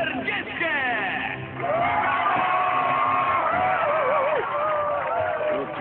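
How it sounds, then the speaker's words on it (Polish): A studio audience cheers and whoops for a performer, with loud excited voices and crowd noise rising after a brief dip and staying sustained to the end. "proszę o gorące brawa dla wspaniałego Zika"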